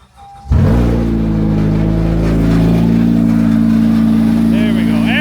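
Honda Accord engine cranking and catching after a short hiss, then running loud and steady with a rising tonal whine, close up, with a faint chirp near the end.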